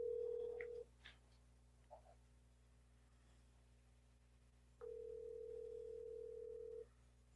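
A phone call is dialed over a speaker: a short tone, a brief blip, then a long steady ring tone, faint and clear with no talk.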